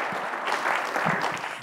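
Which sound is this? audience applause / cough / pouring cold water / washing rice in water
audience applause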